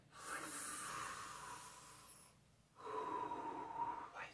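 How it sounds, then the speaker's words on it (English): Two long, deep breaths drawn close to the microphone, one slow airy inhale followed after a brief pause by a longer exhale, soft and breathy with no speech. "Just breathe. Breathe with me."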